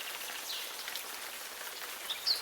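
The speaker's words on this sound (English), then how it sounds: "The storm gremlin was sitting atop a magical rain cloud, and he was using it to clean and repair Snotter's garden." Rain falls from a magical rain cloud onto a garden, a steady soft hiss of drops heard close and alone throughout.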